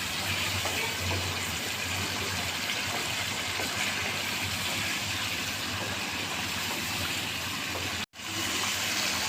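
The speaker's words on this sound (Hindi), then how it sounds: "मसाला भूनने के लिए मैंने थोड़ा सा पानी डाला है" Water poured into masala frying for chicken korma makes a loud, steady rushing sizzle that continues without pause until a brief cut near the end.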